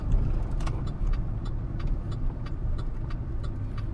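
Cars on a road beside a flooded lake make a continuous low rumble of engines and passing traffic, with faint clicking and rattling over it and no talk.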